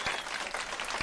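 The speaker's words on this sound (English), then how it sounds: "we'll have some applause here for Larry. There it is." Applause from a live radio show audience, a steady crowd clapping texture filling the whole second at moderate level, with no talk over it.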